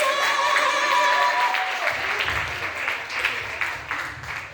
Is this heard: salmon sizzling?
no